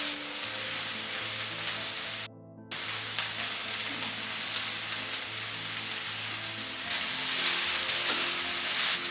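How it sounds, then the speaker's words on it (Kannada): Coriander leaves frying in a little oil in a pan give a steady, close sizzle that crackles throughout, with a brief dropout near the start and a slightly louder hiss toward the end. "ಕೊತ್ತಂಬರಿನ ಸ್ವಲ್ಪ ಸ್ವಲ್ಪ ಹಾಕ್ಕೊಂಡು ಫ್ರೈ ಮಾಡ್ಕೋಬೇಕ್ರಿ."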